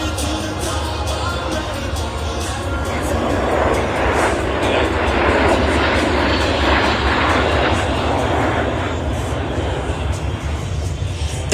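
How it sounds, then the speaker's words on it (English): Warbird aircraft flying in formation at the Warbirds Over Wanaka airshow make a loud engine roar that swells toward the middle and then holds steady, filling the whole stretch without speech. "Precision flying you're witnessing today amongst our American Eagles pilots takes years of training and focus"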